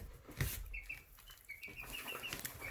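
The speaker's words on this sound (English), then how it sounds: "This chicken here is just over 2 weeks old" A chick just over two weeks old clucks faintly and flaps its wings in short bursts, with thin chirps and rustling at close range in a quiet setting.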